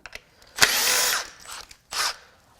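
Power tool spinning out bolts from the timing cover of a 2021 Subaru WRX FA20DIT engine, two short bursts of high-pitched whirring with brief clicks between them, close and loud with no talking.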